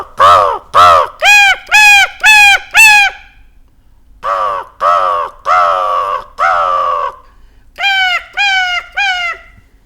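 A voice mimics a house crow's alarm call when it senses danger: three bursts of loud, strained, rising caws, each burst fast and insistent, close and with no other sound.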